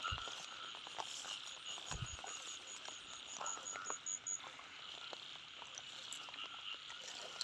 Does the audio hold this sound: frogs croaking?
yes